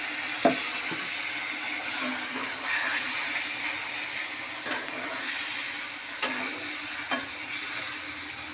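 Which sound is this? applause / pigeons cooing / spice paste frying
spice paste frying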